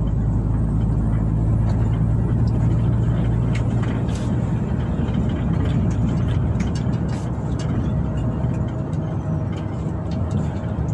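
Dump truck engine on a rocky mountain road, a steady loud low rumble running throughout with rattling clatter and brief knocks over it, close and continuous.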